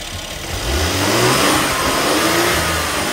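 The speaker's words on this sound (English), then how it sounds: "we're going to rev it up a few times and then pull it off" A Mercedes GLC43 with the M276 engine revved up in a garage during intake valve cleaning, a loud steady engine drone rising in pitch as the throttle opens and holding high.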